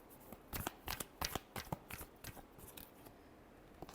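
Tarot cards are shuffled by hand in a close, quiet riffle of rapid flicks that thin out toward the end.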